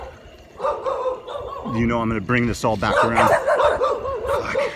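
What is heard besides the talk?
dogs barking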